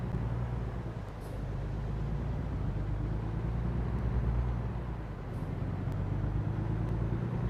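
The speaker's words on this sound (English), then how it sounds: "this Kenworth doesn't even sound like mine" A Kenworth truck engine drones in a steady, deep, continuous rumble, rising and falling slightly in loudness, with no one talking.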